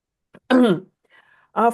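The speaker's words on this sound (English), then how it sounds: "I have a kind of coughing." A person gives a short, harsh throat-clearing cough, a faint pause, then another rough cough close to the microphone.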